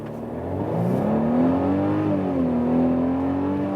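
A Mercedes GLC 300 facelift SUV accelerating hard in sport plus mode, its engine note rising steadily in pitch with a smooth building growl, heard close from inside the cabin.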